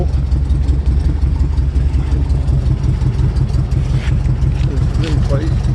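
Speedster tribute car idling after a cold start with no choke, a steady low engine rumble running close and continuous, with faint background chatter.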